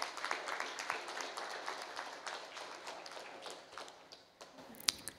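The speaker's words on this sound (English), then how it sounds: "Let's give them a big round of applause" Audience applause at a 60th birthday celebration, scattered claps running steadily for several seconds at moderate distance, thinning toward the end with a louder single clap near the close.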